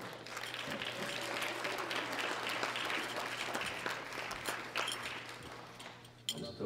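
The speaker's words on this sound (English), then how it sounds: "A big round of applause for Janet Besseril." Sustained crowd applause fills an arena at a world powerlifting championship after a junior women's gold medal with a deadlift world record, steady and dense before tapering off near the end.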